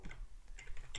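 Quick, light keyboard typing, a steady patter of small clicks from a computer keyboard close by, with no voices.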